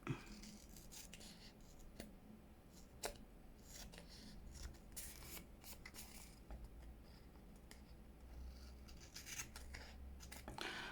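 Scissors snip steadily through paper at close range, a rapid series of crisp cuts and rustles with no talking.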